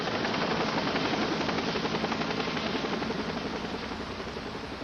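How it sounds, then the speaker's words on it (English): A medical helicopter flies past, its rotor chop and turbine whine filling the air loud and steady throughout before easing slightly near the end, with no voices. "Brendan was flown to Modesto Memorial Hospital."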